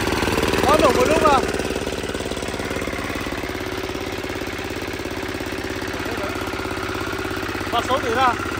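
A mini tiller's small engine idles steadily after a hard start, a continuous close putter throughout while people talk over it.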